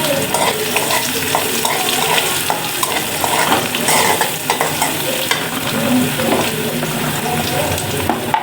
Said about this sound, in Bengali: একটু ভাজা ভাজা হোক রসুনটা